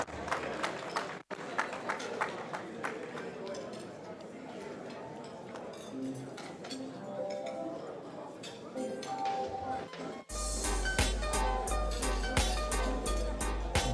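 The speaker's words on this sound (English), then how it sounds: "Clap him, man, clap him" Scattered applause rises at a staff awards ceremony as names are read out, a moderate patter of clapping with clinks and a voice, turning louder and brighter near the end.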